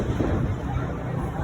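Fireworks bursting at a school pep rally, a dense, continuous rumble of booms and crackle from a crowded outdoor setting, loud and sustained with faint voices mixed in.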